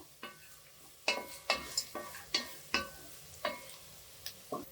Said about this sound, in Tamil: வெங்காயம் நல்லா அப்படியே வதங்கிருச்சு